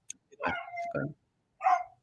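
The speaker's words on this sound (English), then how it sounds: "It's the next door neighbor's dog." A next-door neighbour's dog barks from nearby, a drawn-out yelping bark followed by a short gap and one more sharp bark, with no talk over it.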